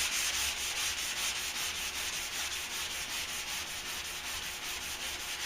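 Sanding a pickup truck bedside panel by hand, a steady, close scratching rub with a quick repeating back-and-forth rhythm, loud and continuous with no voices.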